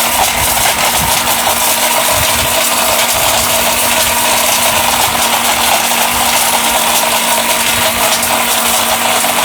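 A robot blender runs loud and unbroken, a dense grinding whir with a steady motor hum underneath and faint rattling inside the jar, with no voices over it.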